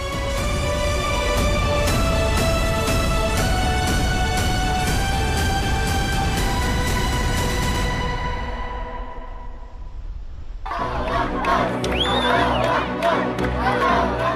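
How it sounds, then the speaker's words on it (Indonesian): Gaza residents cheer the ceasefire as a loud, dense crowd roar of shouting and cheering, steady throughout before a brief dip and a renewed burst of excited voices. "Sorak-sorai dan rasa syukur mewarnai reaksi warga Gaza atas kesepakatan gencatan senjata"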